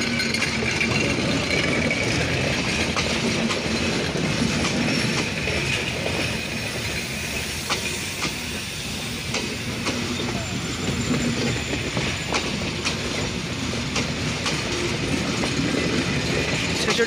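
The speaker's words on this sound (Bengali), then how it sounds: "রূপসা এক্সপ্রেস ট্রেনটি বর্তমানে পার্বতীপুর জংশনে ইন করলো।" Rupsha Express, Intercity 727, pulling into Parbatipur Junction behind a diesel locomotive: a continuous loud rumble with clattering wheels and recurring high squeals from the rails, going on throughout.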